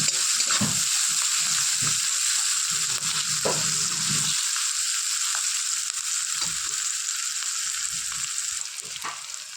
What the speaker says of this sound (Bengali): এরপরে দেখো আমি পেঁয়াজটা একটু লাল লাল ভাজা হয়ে গেছে